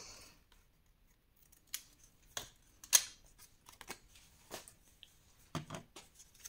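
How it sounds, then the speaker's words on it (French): Scissors cutting paper for a scrapbook gift album, heard as a handful of separate crisp snips and slicing strokes, close and quiet with silent gaps between cuts. "alors je vais couper un petit peu"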